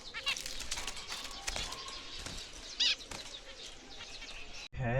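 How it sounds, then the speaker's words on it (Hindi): Wings of a small bird flapping close by in an Iranian home, a series of quick fluttering bursts and rustles spread across the clip, with a few soft chirps mixed in. "इतनी प्यारी चिड़िया"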